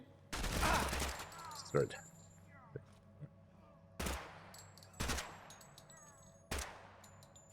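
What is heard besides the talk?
gunfire with incendiary ammo in a video game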